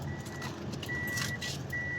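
A key jingles and turns in the ignition of a 2000 Honda CR-V, a faint metallic rattle over a quiet steady hum, with no talking.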